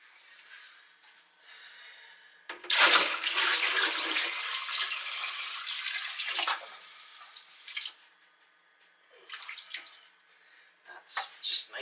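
Cold water pours into a steaming hot bath in loud splashing, gushing bursts that start and stop several times, separated by quieter trickles and drips.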